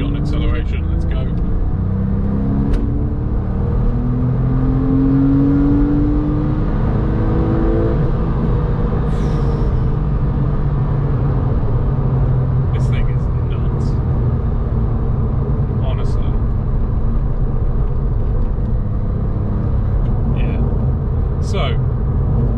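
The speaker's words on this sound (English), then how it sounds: "Oh, and we got an acceleration." A Porsche 911 of the 997.1 generation with about 150k miles accelerating, its engine rising in pitch through the gears as a loud, steady drone close to the microphone, with brief voices over it.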